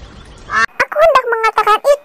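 Cartoon duck quacks, a quick run of nasal, harmonic calls in rapid bursts following a brief noisy lead-in, loud and close with no talk.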